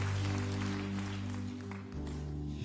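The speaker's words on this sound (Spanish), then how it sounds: "Denle un aplauso fuerte al Señor esta noche." A church congregation applauds in a dense, continuous wash of clapping, steady then thinning slightly, with a sustained organ or keyboard chord ringing underneath.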